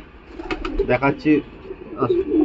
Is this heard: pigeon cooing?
yes